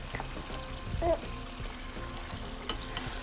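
Fish dropped into half-cooked papaya in a pot sets off a steady frying sizzle, with a brief splash-like burst about a third of the way through and a light clatter near the end.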